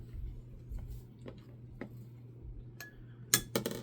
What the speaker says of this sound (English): I'm going to take a little scoop of it and put it in my dish here